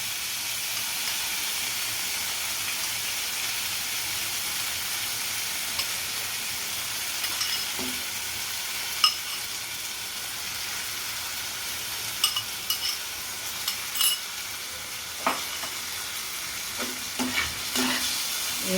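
Constant hiss of tomato chutney frying in a pan, joined later by intermittent scraping and clinks of stirring, close and without voices.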